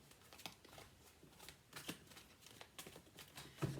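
Golden Tarot deck of tarot cards being shuffled, a soft run of riffling and papery flicks with a few sharper snaps, close and quiet, no talking.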